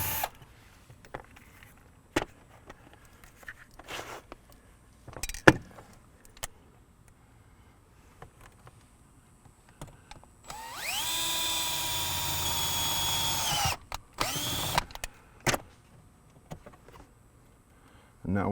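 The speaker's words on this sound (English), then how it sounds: "We're going to remove the 7mm." A power tool, likely a drill or driver, removes a 7mm screw while a vehicle ground is installed on a Salvation Army catering truck, running loud and steady for about three seconds, with another brief burst after, amid quieter clicks and handling noises.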